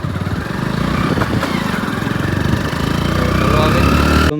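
A motorcycle engine runs steadily nearby, a continuous buzzing drone on a roadside trip before the bike breaks down with a faulty spark plug.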